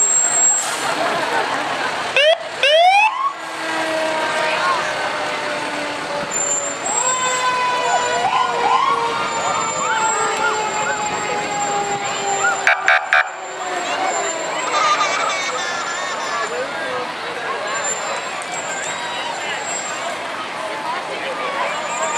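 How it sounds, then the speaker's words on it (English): A New Boston fire rescue truck rolls past in a Fourth of July parade in New Hampshire, its siren wailing loud and near in rising and falling sweeps, with an air horn blast and a crowd chattering around it. "Looks like a New Boston rescue truck right there."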